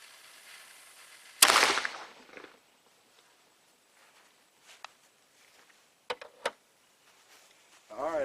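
A homemade cannon fires once with a sharp, loud boom that decays over about a second, followed by quieter scattered knocks and a couple of brief sharp cracks near the end.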